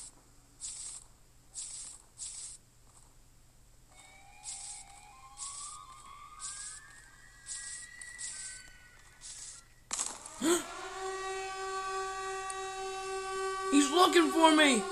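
Siren Head's wailing siren in a forest survival horror video game: pulsing electronic tones, then a loud sustained multi-tone siren blast that swells and bends, close and dominant, without talk.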